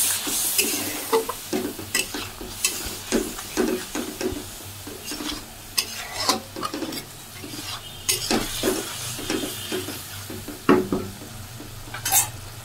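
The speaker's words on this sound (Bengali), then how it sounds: "বেশ কিছুক্ষণ আমি কষাতে থাকবো।" A spice mixture, made with a little water, is stirred and fried in a pan: repeated scraping strokes of a spoon against the pan at an uneven rhythm over a soft continuous sizzle, close and moderately loud, with no talking.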